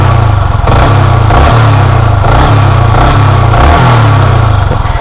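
Yamaha MT-15 motorcycle engine, loud and close, rising and falling through repeated throttle blips with a rough mechanical rattle from the clutch damper riding over the engine note.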